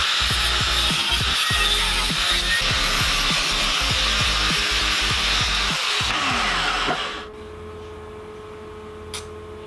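A power cutter grinds loudly and steadily through the corners of a metal frame for about seven seconds, then cuts off abruptly, leaving quiet room tone and one small knock.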